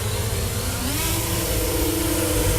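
MJX Bugs 6 quadcopter drone motors spool up on a throttle punch, a loud, steady, close whine that climbs in pitch partway through and holds, with no voices.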